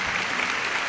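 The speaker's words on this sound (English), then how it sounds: "that deserves an applause" A short, even burst of applause, a dense hiss of many claps with no talking over it.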